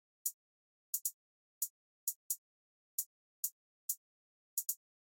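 Isolated hi-hat hits from a trap beat, crisp bright ticks spaced irregularly with a few quick doubled strikes, about a dozen in all, dry and alone against silence.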